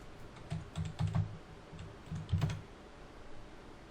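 Typing on a computer keyboard, short bursts of soft, close key clicks in quick clusters separated by pauses, fairly quiet with no talking.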